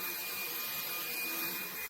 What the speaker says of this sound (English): So now I'll show you with boost mode.